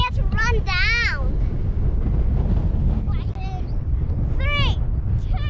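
Gusty wind rumbles steadily across the microphone on a steep coastal hilltop in Lincoln National Park near Coffin Bay, loud and continuous, with people calling out and whooping over it.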